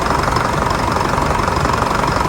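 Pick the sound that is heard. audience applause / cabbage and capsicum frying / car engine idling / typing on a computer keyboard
car engine idling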